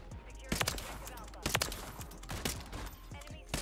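Sniper rifle fire in a video game comes as loud, sharp shots about once a second, each with a short ringing tail, over low background game noise.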